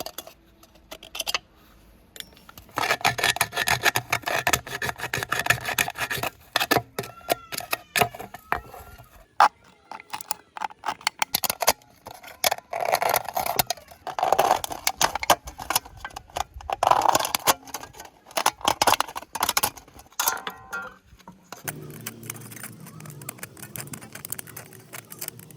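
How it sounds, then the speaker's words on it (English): A soda can is cut through its middle with a dense run of scraping, clicking cuts and snips, irregular and close, pausing briefly before a final quieter stretch. "I'll cut off the middle section of it."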